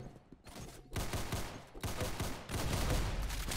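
Gunfire in the Roblox game Arsenal, a dense fusillade of rapid shots crackling continuously at fairly low level, with no talk over it.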